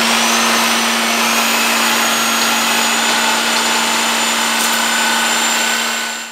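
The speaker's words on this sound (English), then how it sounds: "I'm about to get the sawzall and try to cut through where the bushing is" A Sawzall reciprocating saw cuts through a leaf spring bushing on a Jeep CJ5, giving a loud, continuous high buzzing whine with a steady hum that keeps going unbroken for several seconds.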